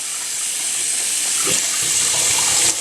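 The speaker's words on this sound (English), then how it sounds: "So I'm just going to let water flow through both ends of the turkey." Warm tap water running through a raw turkey in a kitchen sink: a steady, loud hissing stream with a few soft splashes and knocks as it flows.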